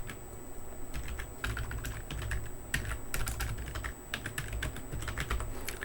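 Quick, irregular clatter of keys on a computer keyboard while entering Excel sheet names, close and fairly quiet, with a faint steady high tone in the background and no talking.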